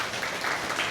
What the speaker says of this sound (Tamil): அவங்களுக்கு தான் நம்ம கைத்தட்டி நன்றி சொல்லணும்.